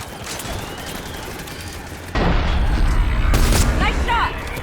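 Gunfire in a Mass Effect 3 battle, bursts of loud booming shots and explosions over a continuous rumble of combat, with voices talking through the fighting.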